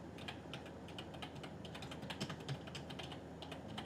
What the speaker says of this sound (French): il faut que tu appuies sur la touche égale de ton clavier